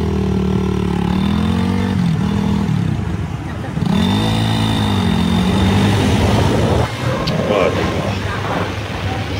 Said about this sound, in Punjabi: ਜ਼ਿੰਦਗੀ 'ਚ ਪਹਿਲੀ ਵਾਰ ਮੋਟਰਸਾਈਕਲ ਅਤੇ ਟਨਲ ਨਾਲ ਸਫ਼ਰ